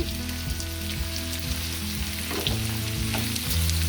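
Steady, continuous sizzle of something frying in a pan until brown for a tomato mint chutney, close and fairly loud, with brief stirring scrapes over low background hum; no talking.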